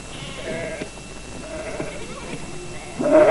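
Livestock being driven off, with goats bleating in several short cries against a rustling outdoor background and a louder burst at the end.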